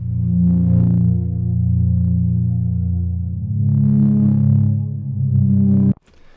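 Lush synth pad from Serum played through Valhalla Shimmer reverb, a warm sustained chord with swelling shimmering upper layers over about six seconds before cutting off abruptly.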